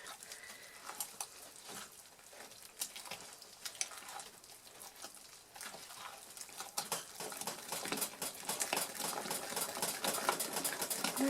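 Hot process sulfur soap batter with bentonite clay and activated charcoal being mixed, a close, busy stream of irregular stirring and scraping clicks that grows denser and louder toward the end.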